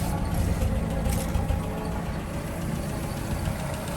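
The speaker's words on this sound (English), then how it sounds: "starts and idles beautifully" A 1948 Land Rover Series 1 80-inch, warmed up, idles with a steady low engine rumble. The sound is continuous and moderately loud, and there is no talking.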